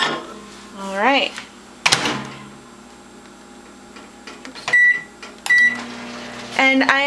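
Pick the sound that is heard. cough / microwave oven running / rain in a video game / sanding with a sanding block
microwave oven running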